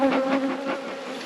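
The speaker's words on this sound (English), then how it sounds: "there seems to be a lot of bees that are trying to get into hives" Honey bees buzz around beehives during a robbing frenzy, a close, steady, droning hum that wavers as the bees fly past.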